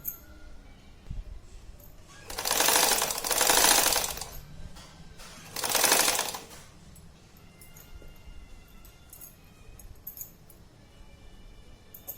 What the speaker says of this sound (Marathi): आता ह्या मशीनवर पक्क्या करून घेऊ.